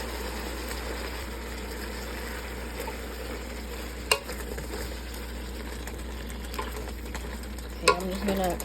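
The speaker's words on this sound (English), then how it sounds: "I'm just gonna stir it to combine the meat with the tomatoes, onions" Meat being stirred together with tomatoes and onions in a pot for Somali rice, a steady soft sizzle and scraping throughout with a couple of sharper spoon knocks, and a brief spoken word near the start.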